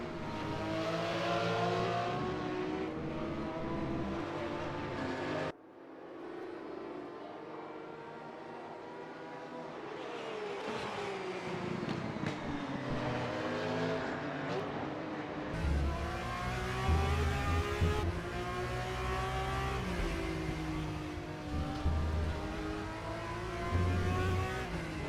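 Porsche 911 GT3 Cup race cars from a sim racing game at Oschersleben, flat-six engines revving high through gear changes, loud and continuous with rising and falling pitch as cars pass and accelerate, with no talking.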